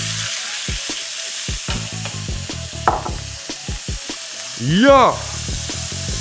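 Oil sizzles and crackles steadily in a hot pan being readied for searing, a close, constant hiss broken by a few sharp ticks and stirring knocks, with one brief exclaimed word from a man.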